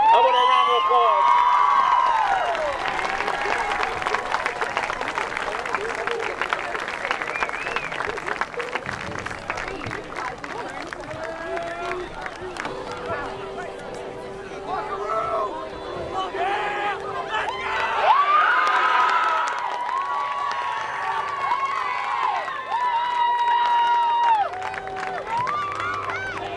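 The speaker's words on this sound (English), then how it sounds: "Ladies and gentlemen, that's your seniors. I want a round of applause." A high school football crowd at a night game claps and cheers for the seniors, a steady wash of applause and hollering throughout, with a faint amplified voice carrying over the stands.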